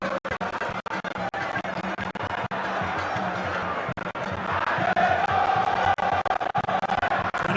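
Football fans cheer in a packed stadium at a Ghanaian league match between Asante Kotoko and Hearts of Oak, a steady crowd roar that swells near the end, broken by sharp thumps and clicks.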